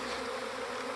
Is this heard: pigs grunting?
no